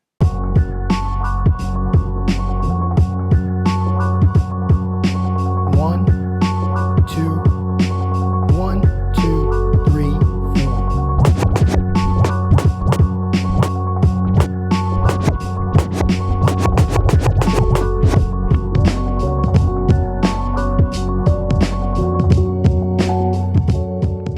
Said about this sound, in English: I use the scratch phrase to build tension